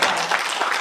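Brief burst of dense, steady clapping from an audience at a political party founding meeting in a hall, loud and continuous with no voices over it.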